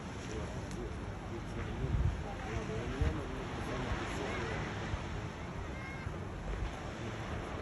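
Sea waves washing onto the shore in Tel Aviv, a steady broad roar mixed with wind buffeting the microphone, with a few stronger wave surges and a voice faintly in the background.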